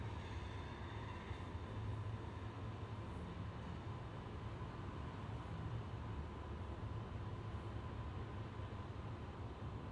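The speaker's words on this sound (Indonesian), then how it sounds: "Mau melihat kereta. Kereta apa?" A train rumbles past with a steady, broad roar that holds at an even loudness throughout, a continuous rolling noise with no voices.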